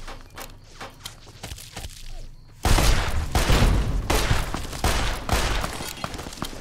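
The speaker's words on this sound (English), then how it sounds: "Oh, I'm getting shot up here." Enemy gunfire in Fallout: New Vegas, scattered distant shots at first, then a sudden loud volley of close, rapid shots and thuds that keeps crackling to the end.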